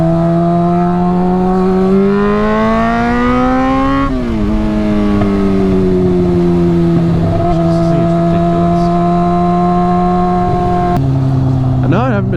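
A Honda F4i sport motorcycle engine revs hard while riding, pitch climbing through gears then dropping on shifts, loud and close with steady wind noise and some talk.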